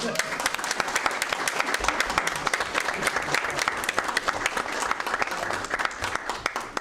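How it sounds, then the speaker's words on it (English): A round of applause breaks out at a board of trustees meeting, a dense, steady clatter of many hands at moderate distance with a faint voice underneath. "just one more round of applause for Len Sir"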